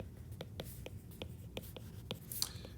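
Hand-writing of mathematical set notation, likely chalk or marker on a board: a steady series of short, crisp strokes and taps at close range, roughly evenly spaced, with a slightly louder scratch near the end and no talking.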